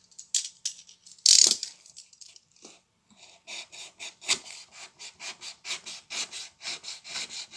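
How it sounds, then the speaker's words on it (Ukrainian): A knife rasps as it cuts away unneeded parts of a handmade bead-weaving loom: one sharp scrape near the start, then a run of short rhythmic strokes, close and fairly loud, with no speech. "Ми їх беремо і відрізаємо. Можна ножиком."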